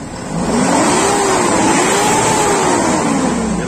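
A 2008 Mitsubishi Triton diesel engine runs steadily and loudly up close after an EGR fault repair, its hum rising and falling slightly in pitch as it revs, smooth and free of popping, with no voices.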